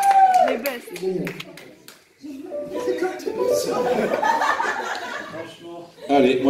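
Applause from a New Year's Eve concert audience, a light scattered clapping with some chuckles mixed in, heard under steady talking from a man on stage.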